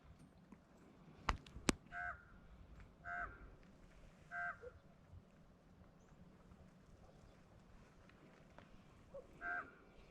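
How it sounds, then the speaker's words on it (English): A raven gives several short, unusually high-pitched calls in the background of an outdoor sunrise setting, spaced several seconds apart. Two sharp clicks come early on. "That is a raven. That is not a natural raven call."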